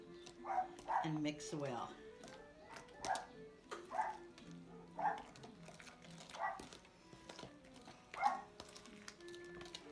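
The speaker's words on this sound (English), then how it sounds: "My dog, she barks at everything." A small dog barks in repeated sharp yips roughly once a second at moderate distance in a home kitchen, while someone talks quietly between the barks.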